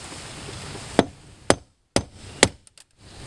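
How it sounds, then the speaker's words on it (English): Four sharp metallic hammer taps on a punch driving out a rivet in a car door lock, spaced about half a second apart, followed by a couple of faint light clicks, close and distinct. "we're going to put a punch on there, and we're going to gently tap it"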